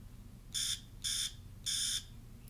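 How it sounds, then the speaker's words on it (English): An alarm clock beeps three times in short, evenly spaced bursts, sharp and clear over a quiet low hum. "Peter Shinewell hears his alarm go off."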